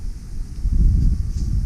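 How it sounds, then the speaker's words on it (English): Wind gusts blow through an interior under renovation at a guest house in the Philippines, a low rumbling buffet on the microphone lasting under two seconds with no one speaking. "but it's so windy right now in here"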